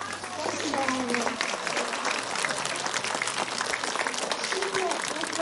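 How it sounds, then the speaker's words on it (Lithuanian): A seated audience at a senior university's tenth-anniversary celebration claps warmly for an honoree, dense applause running throughout with voices audible beneath it. "Šitie aplodismentai skamba Staselė Stanislavai Malevičiūtei."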